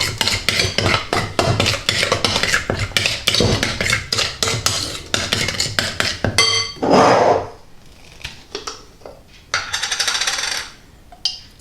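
Tandoori chicken marinade is mixed in a bowl with a utensil, giving rapid rhythmic clinking and scraping that pauses, then resumes in shorter bursts with a soft wet squish, close and without speech.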